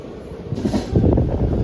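The Simhadri Express pulls out of Dwarapudi railway station with a loud, rumbling roll of wheels and carriages that swells as it gathers motion, heard from on board.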